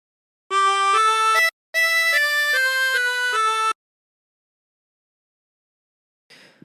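Harmonica playing the opening phrase of God Rest Ye Merry Gentlemen with a bent draw note, about ten clear sustained notes in two phrases, close and alone, then silence and a faint brief noise at the end.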